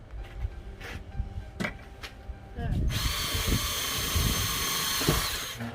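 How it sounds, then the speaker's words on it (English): A power drill bores a pilot hole into a van wall while pegboard is fitted in the van's garage area. A few quiet knocks and handling sounds come first, then a loud, steady, close-up whir runs to the end. "then I will drill a pilot hole."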